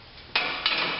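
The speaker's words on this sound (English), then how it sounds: "that clamp will close just slightly ahead of your side clamps" A used JLT Buddy System 79R-8 door and panel clamp closing, two sharp metallic clacks in quick succession, close and loud, with a faint ring after each.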